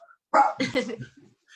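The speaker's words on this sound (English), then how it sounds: "there's a dog barking at something on the front door." A dog barks at something at the front door: a short burst of two or three loud, close barks followed by a softer whimper, with silence around them.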